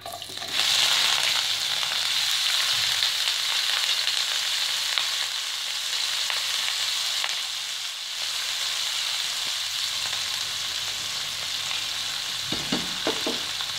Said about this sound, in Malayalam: എണ്ണ നന്നായി തിളച്ചിട്ടുണ്ട് അതിലേക്ക് നമുക്ക് നേരത്തെ എടുത്ത് വെച്ചിരുന്ന സവോള കൊച്ചുള്ളി പച്ചമുളക് ഇത്ര ഇട്ട് കൊടുക്കാം